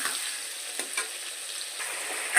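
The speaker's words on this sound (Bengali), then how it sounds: "আলু কটাকে আমি সুন্দর করে একটু লাল লাল করে ভাজা ভাজা করবো ভালো করে ভেজে নেব একটু" Potatoes frying in turmeric-tinged oil in a pan, a steady close sizzle with a few stirring scrapes and clinks, no voices.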